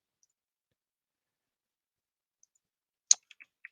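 A single sharp computer mouse click on an on-screen button, followed by a few faint, quieter ticks in an otherwise silent room.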